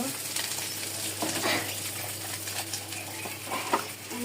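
Oil is poured into a hot pan to fry catfish, sizzling steadily up close, with occasional clinks of utensils against the pan.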